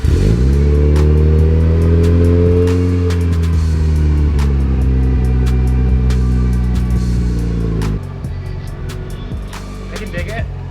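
A car engine starts and revs hard right after a fresh ECU tune, holding a loud, steady high-rpm roar before dropping abruptly to a rough, lumpy idle, close to the listener.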